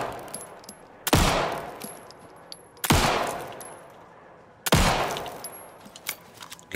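Three loud, sharp gunshots fired at bowling pins at a carnival game stall in Alan Wake 2, spaced about two seconds apart, each with a long decaying tail over a quiet background.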